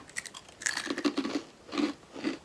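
Close, crisp crunching and chewing of a crispy baked oyster mushroom snack, several quick bites followed by slower chews, with no talking.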